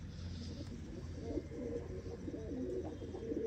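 A champion pigeon coos softly in low, rolling calls, close but quiet over a faint background hum.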